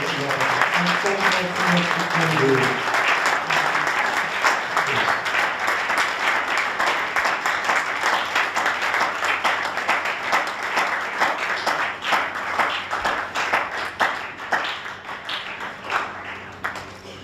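Church congregation applauding throughout, a dense steady wash of clapping with voices mixed in during the first few seconds, loud and sustained.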